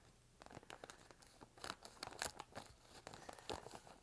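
A plastic clothing package holding a Ralph Lauren rugby shirt is cut and pulled open: crisp crinkling and tearing bursts in irregular clusters, close by and soft, with no talking.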